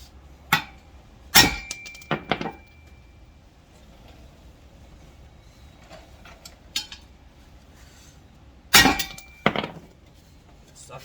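A hammer strikes a socket to knock out a U-joint on a Lexus SC400 drive shaft. Sharp metallic clanks ring out in two clusters, a single hit followed by a quick burst of several blows, with quiet pauses between.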